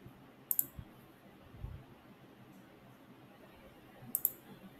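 Computer mouse clicks in a quiet room: a couple of crisp double clicks near the start and again near the end, faint against soft background hiss.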